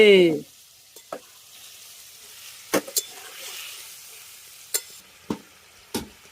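Water hits a chicken kosha mangsho (spiced meat curry) in a hot pan with a brief loud sizzling burst, then quiet simmering broken by a few sharp spoon-and-pan clinks close by.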